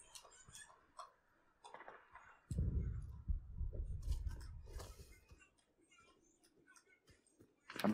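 In the shooter game Warface, a planted bomb ticks with small, regular clicks. A loud low rumble of gameplay noise swells in the middle, and scattered sharp effects sound around it.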